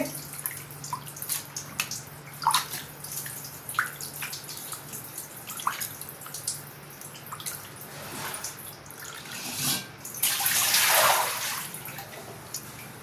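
Water drains from freshly washed raw chicken set in a kitchen strainer, dripping in scattered close drops with a faint steady hum beneath, then a brief louder trickle and splash near the end.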